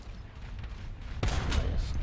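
A tank cannon fires in War Thunder with one sudden heavy boom partway through, followed by a loud rumbling roar that fills the rest of the moment after quieter engine and battlefield noise.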